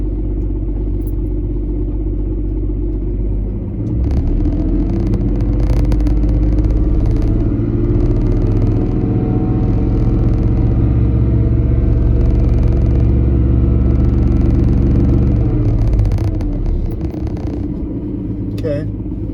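A 1995 Volvo 960 engine idles with a low rumble, then is smoothly raised to about 2,500 RPM and held at a louder, steady drone before dropping back, recorded close to the engine.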